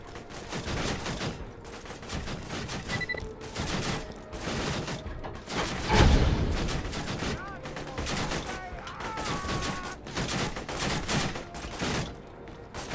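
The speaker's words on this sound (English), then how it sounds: "I don't know where all that gunfire is coming from" Dense, continuous gunfire in the video game Borderlands 2, bursts and volleys layered over each other with a booming blast midway, steady and loud throughout.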